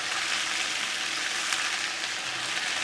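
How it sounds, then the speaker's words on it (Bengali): Spices and noil frying in a pan for pickle with turmeric, salt and chili powder, giving a steady close bright sizzle with fine crackling throughout. "এবার একটু সবগুলো ভেজে নেব"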